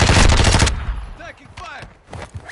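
Heavy automatic gunfire from the video game Call of Duty DMZ, a loud dense burst up close that cuts off after under a second, followed by scattered fainter shots and game sounds.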